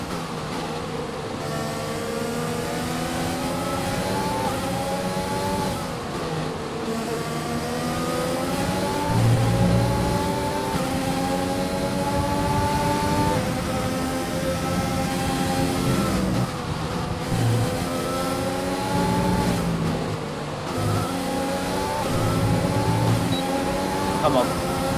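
A Formula 1 race car engine in the F1 2020 racing game revs high, its pitch climbing through each gear and dropping sharply at the shifts, loud and continuous, with someone talking over it.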